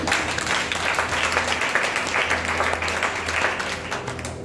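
A church congregation applauding for the Lord, steady dense clapping that continues evenly throughout with a low hum underneath.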